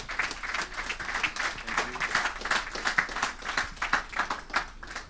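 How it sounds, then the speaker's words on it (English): A conference audience claps for a panel at a hydrogen economy session. The sharp, even applause is moderately loud and steady throughout, with no speech. "please give a round of applause for our panel"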